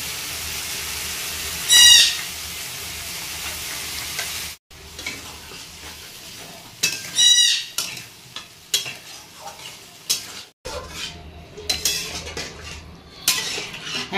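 Sour yogurt goes into frying fish kalia masala with potatoes, bringing a soft sizzle, scraping and stirring of a spoon in the pan, and sharp metallic clinks, faint and close with brief pauses.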